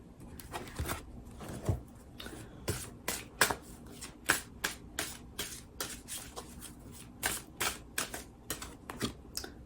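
Sacred Spirit oracle reading cards being shuffled, a run of quick crisp card riffles and slaps repeating close up at a fairly even rhythm, with no talk over them.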